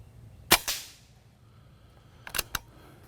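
A high-pressure air gun set to its lowest 3,000 PSI setting fires through a chronograph, giving a sharp, loud crack with a short decaying echo, then a quick pair of sharper clicks and snaps a couple of seconds later.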